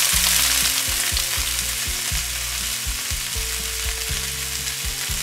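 Cut beans fry in a hot pan with green chillies, a dense continuous sizzle layered with low rhythmic scraping and clunks from stirring, close and loud with no voices.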